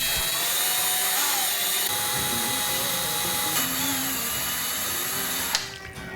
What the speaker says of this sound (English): I drilled through every one of those little sections